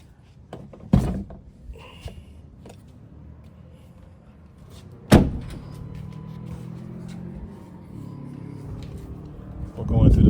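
A 2024 Ford Bronco door thunks shut nearby, followed by a second solid slam later, with quiet rustling and low background hum in between.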